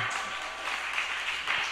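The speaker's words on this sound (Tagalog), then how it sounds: "Palakpakan natin ang ating Panginoon. Pwede ba tayong malakas na palakpak?" A church congregation at a Filipino preaching service applauds together in a steady, dense wash of clapping that holds for under two seconds with no talk.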